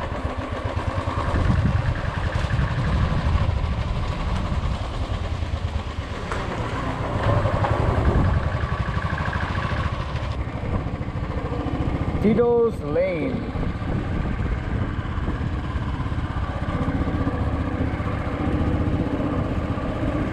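A motorcycle engine runs steadily throughout a ride to Calangute in Goa, loud and close with road and wind rumble, while people talk over it.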